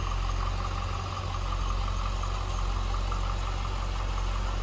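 A stock 5.7 liter LS1 V8 in a 2003 Chevrolet Corvette 50th Anniversary coupe idles with a steady low rumble and even hum, heard alone at close range.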